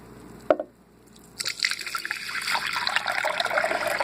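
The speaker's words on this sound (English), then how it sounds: "here's the strained soybean slurry, and I'm going to put it in my pot" Strained soybean slurry poured into a pot, a single sharp clink followed after a short gap by a continuous, close liquid trickle and splash that grows steadily.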